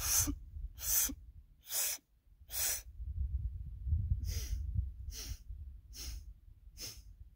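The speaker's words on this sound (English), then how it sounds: "So 4 equal sniffs, hold the breath, then 4 equal sniffs out the nose." Segmented breathing through the nose: four short, evenly spaced sniffs in, a brief pause, then four equal sniffs out. The breaths are crisp and close, with a quiet, low background rumble throughout.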